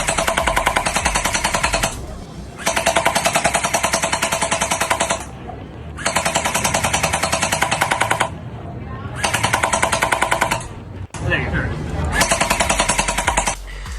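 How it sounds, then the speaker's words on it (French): Nerf Pro Gelfire Mythic gel blaster test firing in full-auto bursts, a loud rapid mechanical rattle in five or six sustained bursts separated by short pauses, close to the microphone, with brief talk in between. "Déjà, un petit test de tir, ça fait pas de mal."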